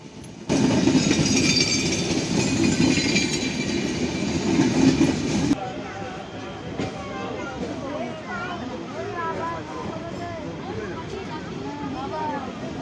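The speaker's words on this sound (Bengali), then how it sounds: "রাজশাহীর ধূমকেতু এক্সপ্রেস ট্রেন ছেড়ে যাচ্ছে শহীদের মনসুরের রেল স্টেশন" The Dhumketu Express pulls out of Shahid M Monsur railway station in Sirajganj, rumbling and clattering loudly up close at first, then fading to a softer rolling clatter as voices talk nearby.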